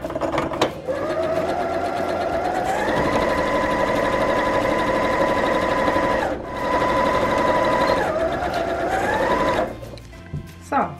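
An Elna 550 sewing machine stitches the first seam of a fabric book cover, a steady loud whirring run with a brief dip midway and a stop near the end.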